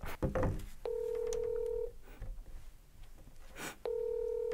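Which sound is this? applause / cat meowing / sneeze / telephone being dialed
telephone being dialed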